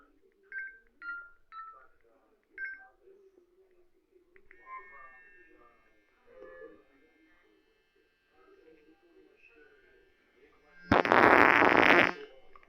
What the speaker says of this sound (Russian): Вот такая вибрация в нем.